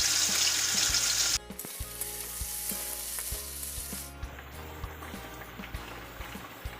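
Fish sizzles in hot oil in a home kitchen with a steady hiss that drops in intensity after the first moment and again later. Light clicks and scrapes of stirring are scattered across it.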